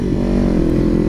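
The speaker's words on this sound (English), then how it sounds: "just crackling and popping with yours constantly" A small sport motorcycle runs in first gear, its exhaust a loud, close, steady low drone with a rough texture and no distinct separate pops.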